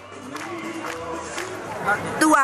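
A crowd gathers at an Aung San Suu Kyi campaign rally in Burma, with a continuous murmur of many voices and a few nearer voices rising above the babble, swelling slightly at the end.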